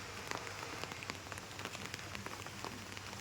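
Light rain falls on a surface with soft, irregular patters and faint scattered drops over a steady hiss, quiet and even, with no voices.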